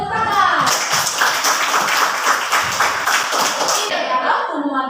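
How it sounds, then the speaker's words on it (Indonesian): A classroom of students claps together in a lively burst of applause lasting several seconds, close and fairly loud, then stopping abruptly. "bagus sekali, tepuk tangan"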